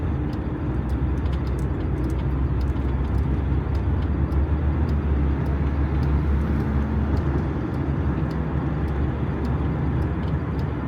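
Steady road traffic on Club Road in Islamabad, a continuous broad rumble of passing cars and engines heard from close by, with no talk over it.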